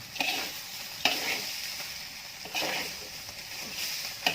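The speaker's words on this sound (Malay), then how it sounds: "Coba kita lagi goreng." Kuih chang sizzles as it is fried and stirred in a pan, Iban style, with steady frying hiss broken by a few sharp scraping stirs of the utensil at close range, no voices.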